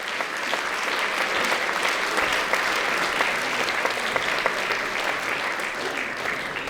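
A concert audience at a band's 20th anniversary jubilee concert claps steadily in a dense, even wash of applause that holds throughout, with no voices standing out.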